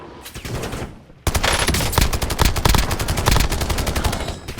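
Rapid automatic gunfire in the video game Warzone, a loud sustained burst of closely spaced shots that starts abruptly after a quieter stretch and keeps rattling to the end.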